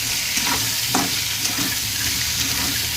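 Drumstick pods coated with flour are stirred in a frying pan, giving a steady close sizzle with soft scraping strokes throughout.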